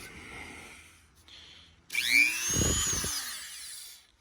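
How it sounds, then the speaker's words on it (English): A Dremel rotary tool cuts at a spinning nut on a pit bike build, a close, loud high-pitched whine that rises and bogs as it bites the metal, preceded by a quieter hum. "time to use the Dremel tool."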